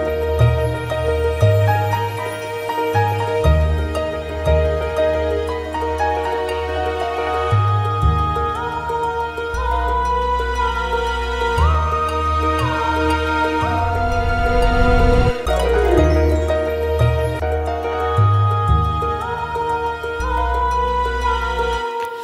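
Epic orchestral piece composed in FL Studio, with layered strings, sustained brass chords and a lead melody over deep low-end hits, playing loud and continuous with no voices.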